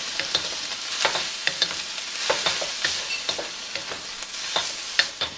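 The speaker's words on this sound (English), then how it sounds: "So now I'm going to reincorporate my ribeye steak meat." Ribeye steak meat frying with mushrooms in a hot pan, loud steady sizzle with repeated sharp stirring scrapes and clicks of a utensil against the pan throughout, no talking.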